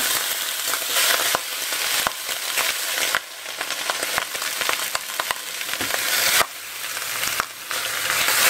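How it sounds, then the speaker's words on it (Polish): Seasoned duck legs searing in a hot frying pan, a loud dense sizzle with sharp crackles, broken by brief dips and renewed bursts as the pieces are handled. "Teraz mi się grzeje patelnia i zaraz będę obsmażać. Od razu obsmażam."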